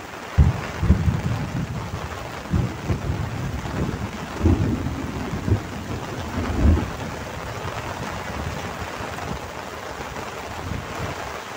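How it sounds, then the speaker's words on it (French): A thunderstorm rolls over a fishing spot on the Somme, with steady heavy rain hissing throughout and several deep, rumbling thunder bursts rising and fading, no talk. "il y a de l'orage. Donc je vais laisser passer l'orage."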